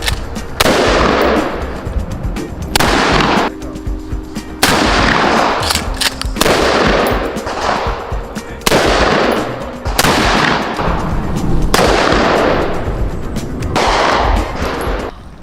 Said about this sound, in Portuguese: Agora a gente vai ver o casal atirando juntos